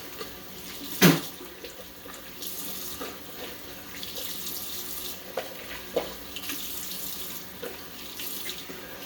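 Tap water running steadily into a sink while washing off after a shave, a continuous close hiss with a few small splashes and one sharper knock near the start, no voices.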